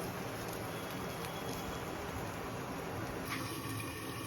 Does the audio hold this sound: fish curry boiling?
yes